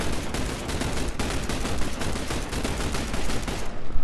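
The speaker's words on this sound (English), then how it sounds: "Bombardment now!" Sustained, dense gunfire and artillery bombardment from the video game XCOM: The Bureau, a loud continuous barrage of rapid overlapping shots and blasts that cuts off abruptly at the end, with no voices.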